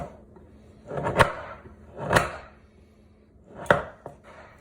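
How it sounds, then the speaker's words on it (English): A knife scrapes chocolate into shavings for a Black Forest cake, three firm, close scraping strokes with pauses between them, each rising to a sharp finish. "I like how those chocolate shavings are coming out better"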